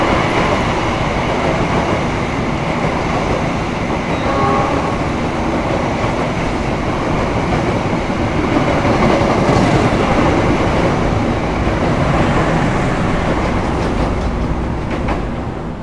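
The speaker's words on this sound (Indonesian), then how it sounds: "Ternyata yang lewat adalah kereta api Kertanegara kelas eksekutif ekonomi dari Malang tujuan akhir stasiun Purwokerto." Kertanegara executive-economy passenger train from Malang passing close by, a loud continuous roar of wheels and carriages with rhythmic rail clatter that holds steady for the whole stretch.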